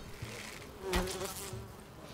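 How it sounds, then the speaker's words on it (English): Swarming bees buzz in the video game Enshrouded, a steady insect drone that swells to a louder peak midway before easing back, fairly faint and without talk. "Wait, are there bees after me?"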